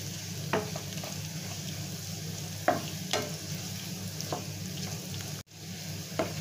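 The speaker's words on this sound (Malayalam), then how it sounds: "ഒരു നുള്ള് ഗരം മസാല ഇട്ടിട്ട് ഒന്ന് മൂപ്പിച്ചിട്ട് നമ്മുടെ കറിയിലേക്ക് ഇട്ട് കൊടുക്കാം കേട്ടോ" A pinch of garam masala fries in hot oil for a Kerala taro (chembu) curry, with a soft, steady sizzle and a few sharp clinks from stirring, heard without talking.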